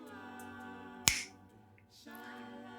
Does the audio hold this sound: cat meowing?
no